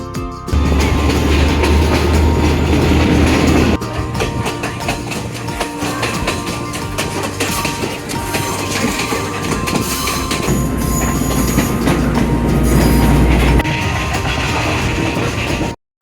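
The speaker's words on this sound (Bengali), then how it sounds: "ট্রেনটা এখানে এসে এই স্টেশনে থামে থামার পরে পাহাড়টা ঘুরে এসে এই দিক দিয়ে যায়" A train rolls through a station in Sri Lanka's hill country, a loud continuous rumble with clickety-clack of wheels over rail joints and a heavy low drone that swells near the end, with no voices.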